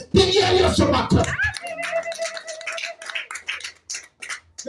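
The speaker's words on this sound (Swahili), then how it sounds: "Pigia Yesu makofi." A church congregation at RGC Marurui claps for Jesus in a dense, loud burst of about a second and a half that stops abruptly, followed by a held tone and a voice talking.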